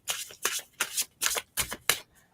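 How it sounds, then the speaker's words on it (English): A deck of cards is shuffled repeatedly in quick bursts, about six riffles with short gaps, close and clear with no voices. "I really do shuffle the cards to find a message for it"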